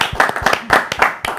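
Audience clapping in a quick uneven burst of about a dozen sharp, close hand claps, with short gaps between groups.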